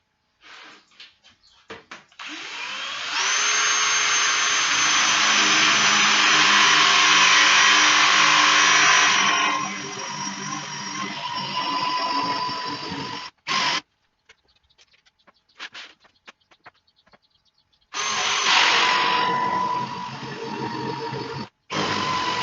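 A power tool drills hinge holes into a wardrobe panel, giving a loud sustained whine for several seconds, then short bursts, a quiet gap, and a final long cut.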